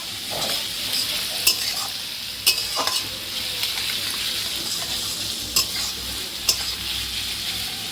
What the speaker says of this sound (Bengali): পেঁয়াজটাকে ভালো করে ফ্রাই করে বানাবে মিক্স ভেজ পোলাও